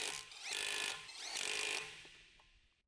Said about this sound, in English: Using the 21mm long socket with the electric impact wrench,